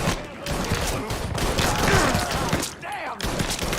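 Gunshots in the crime game Mafia 3, a dense, continuous clatter of firing for several seconds, loud and close, without speech.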